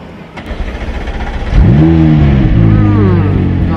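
A 2020 McLaren's engine catches and revs up sharply, a loud sustained roar with rising and falling pitch that holds steady near the microphone after a quieter start.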